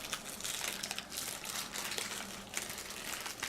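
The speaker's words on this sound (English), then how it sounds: "Now it's time for unwrapping." Equate 4500 Series wrist blood pressure monitor unwrapped from plastic packaging, a steady close crinkling and rustling of wrap for a few seconds, moderately loud, with no voice.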